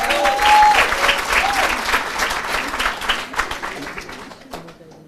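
Applause from a graduation ceremony audience, a dense sustained clapping crowd that swells early and gradually thins toward the end, with some voices mixed in.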